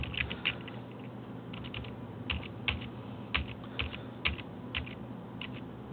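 Quiet, irregular clicking of keys being typed on a computer keyboard, with small bursts of taps spread over a few seconds and no talking.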